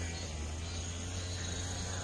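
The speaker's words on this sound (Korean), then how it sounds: "매미 소리하고" Cicadas singing at a rural family gravesite after grass trimming, a steady unbroken high buzzing drone that fills the whole moment with no voices.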